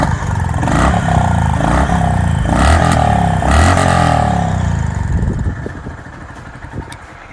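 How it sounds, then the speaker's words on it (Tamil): A 2025 Honda CB350 RS motorcycle engine runs loud and close through its exhaust with a deep, thumping note, rising in a couple of revs before settling back and fading toward the end. "இந்த வண்டியோட எக்ஸாஸ்ட் நோட் எப்படி இருக்குன்னு கேட்கலாம்."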